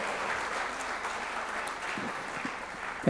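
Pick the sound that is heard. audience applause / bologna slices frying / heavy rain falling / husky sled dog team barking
audience applause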